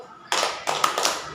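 A preschool clapping chant begins after a brief quiet moment, with a few groups of close hand claps and taps coming in short rhythmic bursts, and a voice faintly present beneath them.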